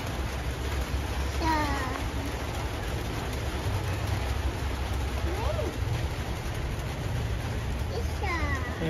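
Steady rain falls outdoors in a rural Bangladeshi setting, a dense hiss spread evenly through the whole stretch with a low rumble beneath, while birds chirp now and then and a voice is faintly heard.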